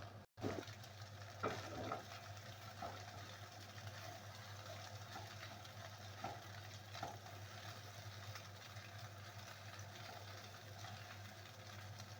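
Steady sizzling of food frying in a pan, a constant crackling hiss with a low hum underneath and a few faint clinks.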